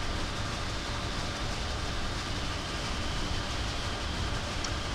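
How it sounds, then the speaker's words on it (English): Steady, dense rumble of a train running in Train Simulator 2017, an American Freedom Train special, a continuous wash of wheel and engine noise with no talk and no breaks. "Driving the train was nice and is nice, and I don't want to push the train too hard."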